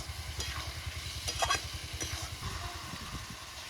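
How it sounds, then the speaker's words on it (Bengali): Potato pieces fry in a spiced masala for a rohu fish jhal, sizzling steadily with a few scraping stirs of the spatula and a low, pulsing rumble beneath, fairly close and moderately quiet. "আলু দিয়ে ভালো করে কষি নেব"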